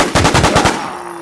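Rapid pistol fire in the zombie survival game Infestation: Survivor Stories, with about six loud, evenly spaced shots in quick succession, then a brief lull and one final shot.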